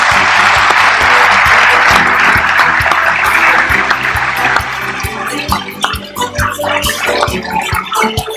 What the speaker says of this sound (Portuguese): E agora a foto do grupo e o justo aplauso.